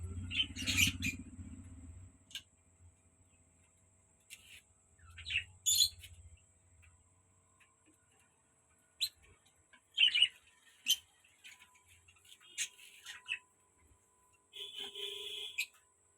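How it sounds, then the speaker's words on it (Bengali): Pigeons kept in a home loft call in scattered bursts of chirps and squawks, with a few low throaty notes near the start, close by and fairly faint, with quiet gaps between calls. "এই আমাদের ঘরের সব উড়নের পায়রা"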